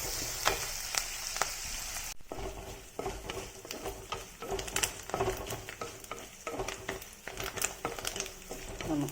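Curry leaves and onions fry in hot oil for a fish curry, giving a continuous crackling sizzle broken by repeated stirring scrapes and clinks of a spoon against the pan, close up and with no talk.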